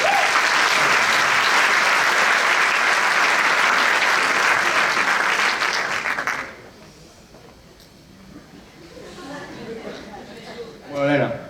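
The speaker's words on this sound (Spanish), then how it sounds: "un gran aplauso para las personas que hicieron el vídeo" Loud, dense applause from an audience at a high school graduation ceremony runs for about six seconds, then drops away to room murmur as a voice starts speaking.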